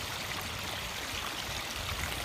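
Water pours steadily over the rock work of a pondless garden waterfall into gravel, a constant close rushing splash with no pauses.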